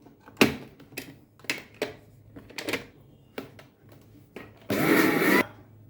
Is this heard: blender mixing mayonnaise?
yes